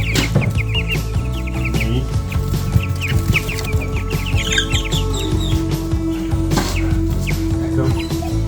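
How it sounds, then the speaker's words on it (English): Two-week-old jumbo Cornish Cross chicks cluck and cheep continuously in a box, close and busy, with overlapping calls and scratching movement throughout. "we got a box full of chickens"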